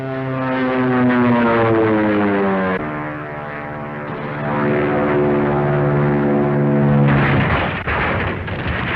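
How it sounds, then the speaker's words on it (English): A loud propeller airplane drones steadily overhead, its pitch slowly falling and then shifting as it passes close by. "airplanes are safer than autos"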